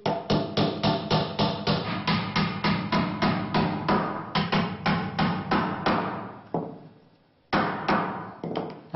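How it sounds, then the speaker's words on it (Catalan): Loud, close hammer blows drive tacks into a traditional Majorcan wooden ladder in steady rapid rhythm, around two dozen strikes, then a brief pause before a few more. "I ara hem d'acabar de clavar les tatxes."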